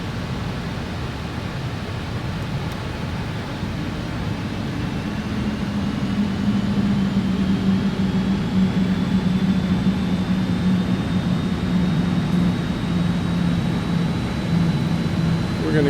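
Steady whine and roar of Just Flight RJ jet engines during descent in Microsoft Flight Simulator, with a constant broadband rush, a low droning hum and a thin high tone rising slowly throughout.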